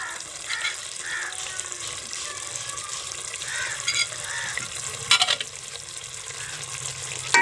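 Fish curry bubbling and sizzling in a pan in a village kitchen, a steady close frying hiss with small stirring knocks and a brief clatter near the end, no talking.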